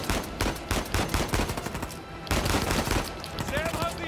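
Rapid automatic gunfire in Uncharted 4 rattles in dense, loud bursts close by, with a brief lull in the middle before the shooting resumes.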